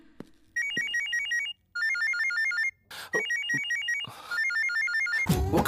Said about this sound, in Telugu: అతని ఫోన్ ఎలా రింగ్ అవుతుంది?